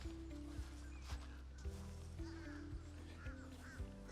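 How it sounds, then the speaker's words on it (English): Noisy birds, like ducks or geese, outside a remodeled house in Florida, honking and quacking in repeated loud calls at a steady rhythm over a low hum. "Those birds are driving me crazy."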